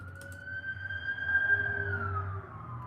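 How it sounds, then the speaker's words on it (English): A police car siren wails steadily as it passes a house, one long rising and falling tone heard at moderate distance over a low background rumble. "You hear sirens going by, whether it's the cops, an ambulance, or the fire trucks."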